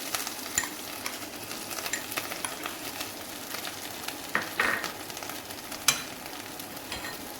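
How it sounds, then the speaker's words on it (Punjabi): Ginger and green chilli, pounded in a mortar, roasting in a pan for palak paneer samosa filling, giving a steady soft sizzle with occasional scraping stirs and a couple of sharper clinks. "ਇਹਨਾਂ ਨੂੰ ਹੁਣ ਆਪਾਂ ਭੁੰਨ ਲੈਣਾ"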